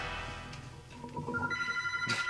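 A telephone rings inside the Goldeneye video game, a repeating electronic trill that grows louder toward the end, with game sounds underneath and no speech.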